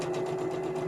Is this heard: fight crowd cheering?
no